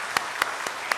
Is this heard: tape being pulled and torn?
no